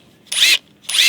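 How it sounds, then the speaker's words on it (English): A power drill with a 1/2 inch bit boring into aluminum, two loud, short whirring pulses with a brief gap between them, alone and close. "When you're drilling aluminum or metals with a larger drill bit, that's a 1/2 inch."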